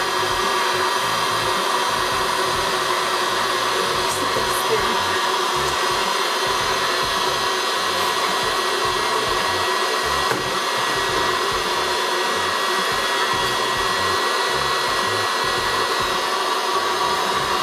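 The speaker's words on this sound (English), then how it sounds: "Sounds like a hairdryer." A hair dryer blows steadily and loudly for the whole stretch, a continuous broadband whoosh with a constant motor hum and no talking.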